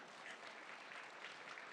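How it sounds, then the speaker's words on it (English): An audience at an innovation summit claps at a faint, distant level, and the clapping blends into a steady hiss-like wash with no individual claps standing out. "there's clapping for that"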